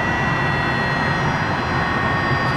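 Tow plane's engine during a glider launch, a loud, steady, continuous drone close by with no talk over it.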